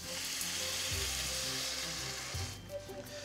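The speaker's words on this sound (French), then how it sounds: "Alors, on peut commencer à ajouter le bouillon de légumes." Vegetable broth hits rice in a pan for a chicory risotto, bringing up a steady, close sizzle with a couple of soft stirring knocks and no voices.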